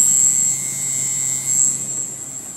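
A MagSpinner pulse motor spins at about 8,400 RPM, giving a steady high-pitched whine with a faint low hum beneath, continuous and fairly loud, with slight wavering in the tone.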